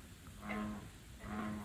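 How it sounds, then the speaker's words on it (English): Frogs calling outdoors at night in the rain near a yurt: two faint, low, drawn-out croaks about a second apart over quiet background noise. "Do you guys hear the frogs outside?"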